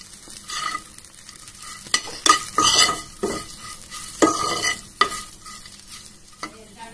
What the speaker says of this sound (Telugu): నెక్స్ట్ మిరపకాయలు గోలించాలి.